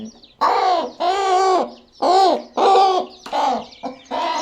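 Domestic hens clucking and cooing near a brood of newly hatched chicks, a series of loud, drawn-out calls in quick succession, close by with no talking.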